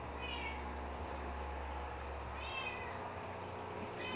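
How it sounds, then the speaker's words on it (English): A pet cat gives three brief, fairly faint meows spread a couple of seconds apart over a steady low background hum. "My cat Spark."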